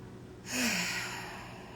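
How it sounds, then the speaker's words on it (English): A single slow, deep breath taken during a quiet meditation session, one soft airy exhale heard close and alone, swelling briefly and then fading out. "Let's take a deep breath."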